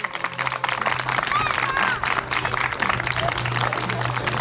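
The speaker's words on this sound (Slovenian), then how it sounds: "Aplavz prosim za punce." A crowd in Jesenice, Slovenia, applauds girls from an acrobatics group with steady, sustained clapping that swells and holds. Faint chirps sound in the background.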